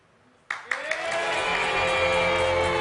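Applause from an audience breaks out suddenly and swells into sustained clapping that continues loud and steady to the end.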